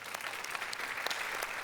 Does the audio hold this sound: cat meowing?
no